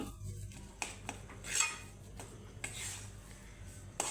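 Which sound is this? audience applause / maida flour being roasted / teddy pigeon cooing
maida flour being roasted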